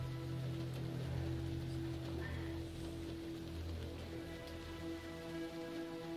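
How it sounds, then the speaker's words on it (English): Rain falling over a junk pile in the point-and-click video game Primordia, a steady even patter with a faint low hum beneath it, continuous throughout with no talk. "Why is it only raining in the junk pile?"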